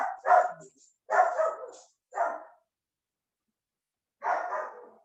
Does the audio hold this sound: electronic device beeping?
no